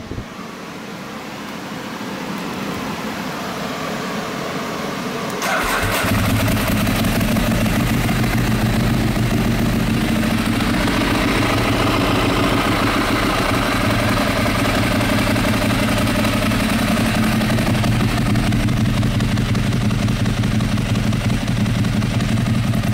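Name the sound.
Nissan 370z with vented clutch cover, clutch clacking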